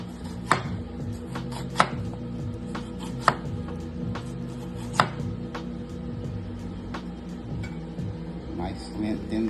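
A knife cuts thin vegetable slices for fajitas on a board, handled by a blind cook; several sharp, evenly spaced chops stand out close over a steady low background hum.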